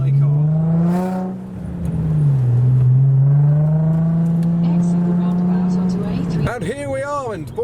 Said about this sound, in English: The RS is looking good in the evening, the Imperial Blue shining. Oh, off they go.